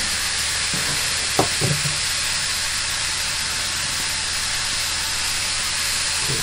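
Diced pepper fries in a pan in a narrowboat galley, giving a steady, loud sizzling hiss throughout with a few brief clatters early on. There is no talk.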